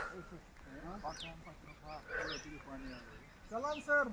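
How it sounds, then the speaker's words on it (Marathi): Loud, nasal bird calls ring out in short bursts, several in a row, with voices talking in between. "मोरांचे आवाज"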